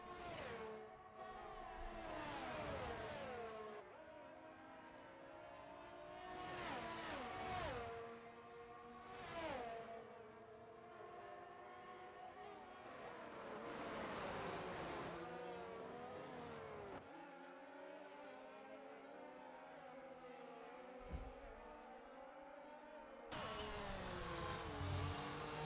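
Race cars, an Alfa Romeo and a Ferrari, battle through the closing laps of a sim racing round in Australia, their engines revving up and down in repeated rising and falling sweeps, close and steady.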